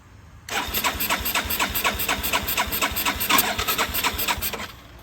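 A 1981 Yamaha SR185 motorcycle is started without choke, the small single-cylinder engine cranking and sputtering into a fast, rhythmic chugging close by that runs for several seconds before cutting off abruptly, with no speech.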